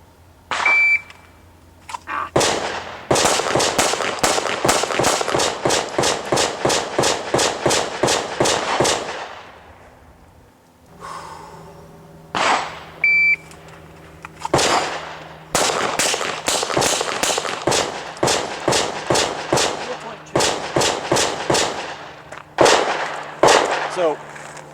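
Glock and S&W M&P pistols fire in rapid strings of sharp, loud shots, two long runs of quick reports separated by a pause with a few isolated shots between, plus faint electronic beeps.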